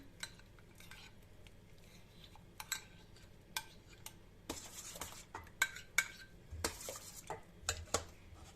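Risen yeast stirred into a dough mixture in a bowl, a series of light clicks and scrapes of a spoon against the sides, irregular and close, growing busier and more rhythmic toward the end, no talking.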